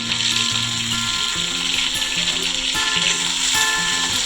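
Mixed vegetables for Bengali shukto frying in hot oil, a steady dense sizzle running the whole time with faint stirring scrapes and no voices.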